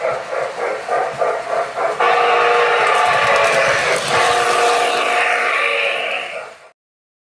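An MTH Texas and Pacific model train runs with a rhythmic chuffing, then a loud, sustained whistle-like steam blast takes over before cutting off abruptly near the end.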